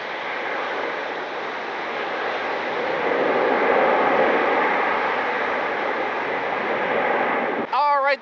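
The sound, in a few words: airliner landing at Cleveland Hopkins airport at night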